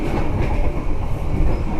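Inside the dining car of a moving Sancaka passenger train, a steady low rumble of rolling wheels and carriage noise carries on throughout, with faint rhythmic rattling and no talk.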